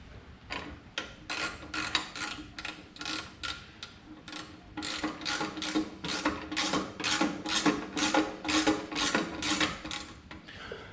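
An 8mm Allen key works Harley-Davidson Softail Heritage Classic saddlebag hardware in a steady series of close, crisp ratcheting clicks, roughly two per second, with no talking.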